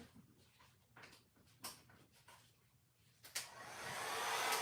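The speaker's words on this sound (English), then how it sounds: "And then I'm going to take my dryer" Hair dryer blowing across freshly poured acrylic paint during a fluid art pour, faint at first with soft handling noises, then swelling into a steady loud rushing whoosh.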